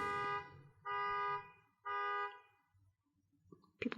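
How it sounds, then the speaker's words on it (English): Car horns honking outside during a pen review, two long sustained blasts with a gap between them, fairly distant and clear, followed by brief faint clatter. "People are honking their horn."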